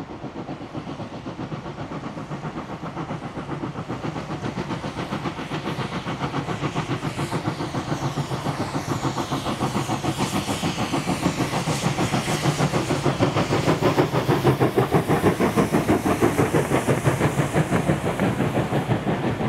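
Train passing on a railway in New South Wales, a steady loud rumble with dense rhythmic clickety-clack of wheels over rail joints, building slightly in volume throughout.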